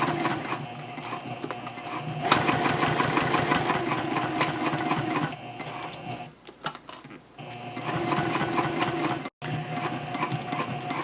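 A sewing machine stitches a messenger handbag in a rapid, steady mechanical patter. It runs close and continuous, pauses briefly midway, restarts and cuts out for an instant before resuming.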